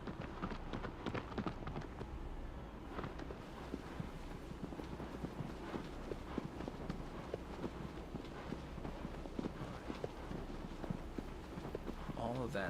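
A horse's hooves clip-clop steadily in Shadow of the Colossus Remastered, a continuous rhythmic gait running the whole stretch under a busy game soundscape, with a voice talking over it at times.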